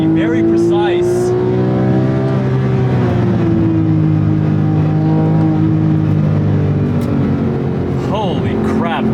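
Porsche 997.2 911 GT3 RS 4.0 and its Mezger 4.0 flat-six revving, a loud, steady harmonic engine tone that rises and falls in pitch, running continuously with a voice talking over it.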